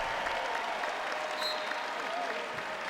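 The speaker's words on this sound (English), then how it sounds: "Listen to the crowd for Hetkevicius." A basketball crowd at a home arena cheers and applauds, a dense, loud, continuous roar of clapping and voices with no break.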